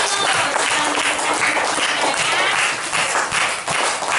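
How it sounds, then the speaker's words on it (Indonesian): Schoolchildren in a classroom applaud a classmate, a lively burst of dense, close clapping that holds steady for several seconds with slight dips near the end. "Sudah, kasih tepuk tangan untuk teman kamu."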